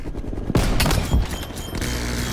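Rapid machine gun bursts fire in a first-person shooter match, with dense repeated shots and a heavier boom midway over steady game noise.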